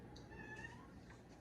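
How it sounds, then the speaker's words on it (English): Cats meowing outdoors, a few soft, drawn-out meows rising over a steady low background hum, faint and somewhat distant. "Got some cats outside. They're out there meowing about something."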